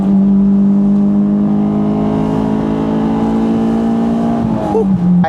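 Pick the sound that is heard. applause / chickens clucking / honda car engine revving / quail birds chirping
honda car engine revving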